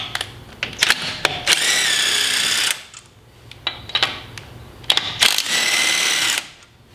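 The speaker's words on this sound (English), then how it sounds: "what I have right here is my DeWalt impact gun with an adapter and my 17-inch socket to take this out" A DeWalt impact gun with an adapter and socket removes a car wheel's lug nuts: two long rattling hammer bursts, each led in by short clicks and taps, loud and close with quiet gaps between.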